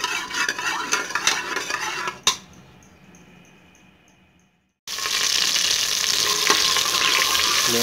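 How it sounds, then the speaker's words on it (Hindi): Oil heating in a pan on a stove for an aloo gobhi dish, with stirring and clinking at the start, a quieter lull, then a steady, loud sizzle and crackle filling the rest. "अब हम इसको चूल्हे पर रख देंगे और ऑयल को गर्म करेंगे।"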